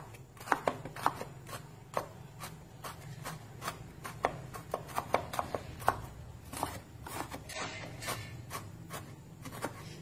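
Sharp knife chops strike a board in an irregular, fairly quick rhythm while chopping coconut, close and crisp, about twenty blows against a quiet background hum.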